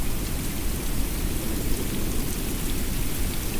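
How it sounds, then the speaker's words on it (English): Steady, dense thunderstorm rain pours throughout in a VR fishing game, a loud constant hiss with low rumbling beneath, no voices. "thunderstorm's coming in"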